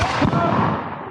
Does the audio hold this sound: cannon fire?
yes